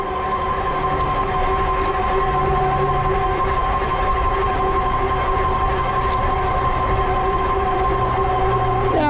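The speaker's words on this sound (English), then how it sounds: "the noise you hear on the bike, that is the hub motor" Steady electric whine from the hub motor of an e-bike ridden on knobby tires, several tonal hums held constantly over a continuous rolling roar, close and fairly loud throughout with no talking.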